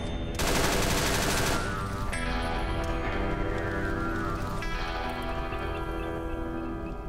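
Gunfire in a heavily modded Fallout game blends into a dense, continuous wash of shooting and ambient game noise after a sudden onset, loud and steady throughout without clear individual shots standing out.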